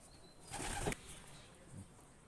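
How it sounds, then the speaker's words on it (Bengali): A pure white Madras Chatiyal pigeon released by hand: a brief, close burst of wing flapping, then a fainter flutter trailing off, with no clear voices. "ছেড়ে দেখাচ্ছি, পুরো সাদা চটিয়াল ম্যাদ্রাস"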